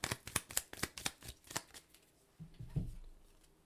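Tarot cards being shuffled, a quick run of crisp riffling flicks close up, fading out toward the end with a soft thud, no voices.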